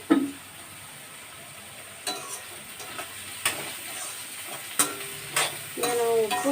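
Onions in a pan for a home curry, with a soft constant sizzle and scattered sharp scrapes and clinks of a spoon against the metal pan, heard alone at low level.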